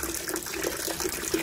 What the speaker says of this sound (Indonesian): Jadi airnya yang keluar udah bersih ya.